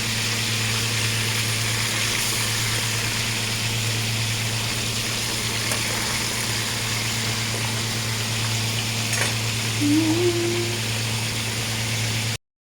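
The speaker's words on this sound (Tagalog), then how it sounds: "antayin lang natin maprito ng bahagya yung ating tilapia" Steady broadband sizzling of fish frying in a pan, continuous and even, with a low electrical hum underneath and no talking.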